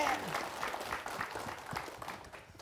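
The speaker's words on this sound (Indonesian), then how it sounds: "Tepuk tangan buat guru kita Bib Muhammad Syahab." Audience at an Islamic religious gathering applauding their teacher, a dense, fairly loud burst of clapping that carries on steadily and fades slightly toward the end.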